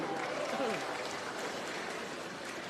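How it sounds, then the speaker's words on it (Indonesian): Applause from a large crowd at an outdoor Indonesian political rally, a dense, steady wash of clapping heard from a distance, with a voice briefly audible over it at the start. "Tepuk tangan."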